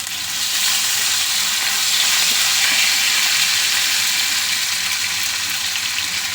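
Curry leaves crackle and sizzle steadily in hot oil with green chillies for an okra stir fry, a loud, continuous frying hiss close by with no talking.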